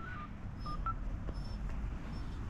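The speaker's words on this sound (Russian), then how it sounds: "Блин, Костик звонит" A phone ringing with an incoming call: a few short, faint electronic tone blips over steady outdoor background noise along a seaside walk in Odesa.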